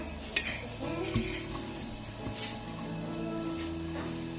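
A metal spoon scoops through cooked fava beans (ful medames) in a pot, giving soft clinks and scrapes against the pot over a quiet room hum, with a few sharper taps early on.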